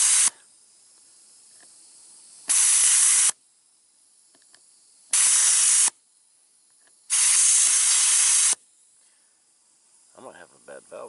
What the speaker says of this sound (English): Found by the hissing and saw by the bubbling.